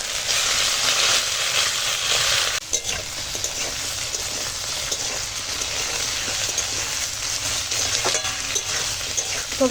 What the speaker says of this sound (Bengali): সবজিগুলো দিয়ে অল্প সময় নেড়েছি